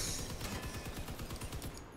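Rapid cannon fire from the Maybe Panzer vehicle in the Crossout combat game, a dense, steady stream of thudding shots continuing for the full two seconds with no talk.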